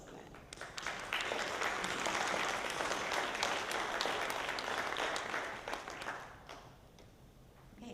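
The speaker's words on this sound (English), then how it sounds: "I'd like to give a round of applause for that." Applause from an audience at a Missouri Senate candidate forum swells into sustained clapping that holds steady for several seconds before tapering off.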